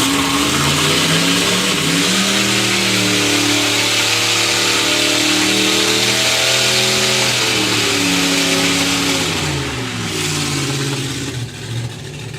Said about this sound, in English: So Jim Tucker with a Hellfire Hemi